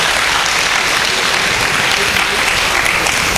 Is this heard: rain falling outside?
no